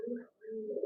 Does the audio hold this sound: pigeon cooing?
yes